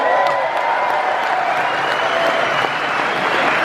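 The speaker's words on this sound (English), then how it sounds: "Keep the applause going" Audience applause with some cheering at a Q&A event for the film Quadrophenia as a guest is welcomed on stage, a continuous loud wash of clapping from a large crowd with a faint whoop.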